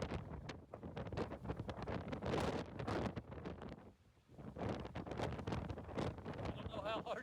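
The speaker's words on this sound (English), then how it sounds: "I don't know how hard the wind's blowing." Strong wind gusts roar across an exposed mesa top near balanced rocks, buffeting loudly and continuously, briefly easing before surging again.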